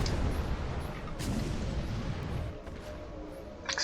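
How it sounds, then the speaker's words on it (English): Dense, continuous rumbling explosions and blasts from a Star Trek Online space battle, heavy and sustained throughout with a few sharper bursts near the end. "Explosions."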